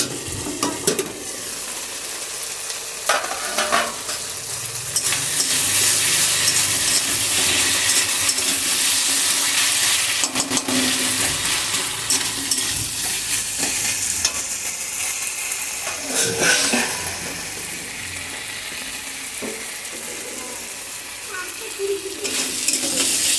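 Spice masala sizzles and fries steadily in a pan on the stove while being stirred, with intermittent scraping and clinking of a spoon against the pot throughout, close and fairly loud.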